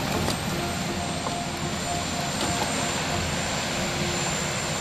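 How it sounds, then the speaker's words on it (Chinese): The US presidential helicopter flies toward the Walter Reed military hospital helipad, giving off a steady, loud whooshing engine roar without a break. "直接登上直升机扬长而去"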